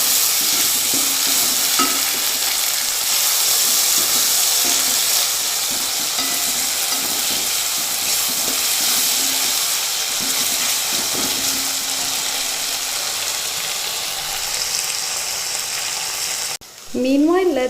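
Ginger garlic paste fries with onions in a pan for a mushroom korma gravy, a loud, constant sizzle with occasional stirring scrapes, ending in a brief clatter.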